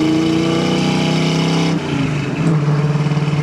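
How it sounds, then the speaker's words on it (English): Restored 1966 Ford Mustang with a 289 V8, loud close exhaust burbling at a steady idle, then a brief lift and a deeper, pulsing throttle blip. "Let you hear the exhaust a little bit."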